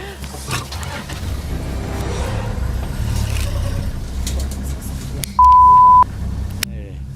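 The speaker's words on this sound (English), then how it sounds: "The ranger quickly fires up the vehicle," A safari vehicle's engine fires up and drives off, a low rumbling motor running steadily throughout, with a brief electronic beep near the end.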